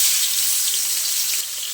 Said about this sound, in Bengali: এরপর এই চিংড়ি মাছগুলো আমি তেলের উপরে দিয়ে দিচ্ছি।